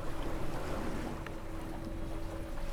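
Electric motor boat with two motors running around 500 watts each, cruising off Saint-Raphaël: a steady low motor hum with a faint whine, under continuous wind and water noise, no voices.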